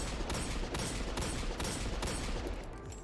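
Rapid, continuous gunfire from the Austringer rifle in the video game Destiny 2: Forsaken's Reckoning mode, a dense run of repeated shots at close range with no pauses and no talk.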